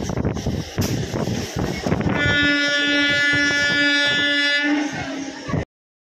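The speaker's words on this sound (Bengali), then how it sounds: "আমরা নলপুর স্টেশনে ঢুকছি।" A local train bound for Digha rolls into Nalpur station, its rumble and wind noise giving way to a long, loud, sustained horn blast that cuts off abruptly.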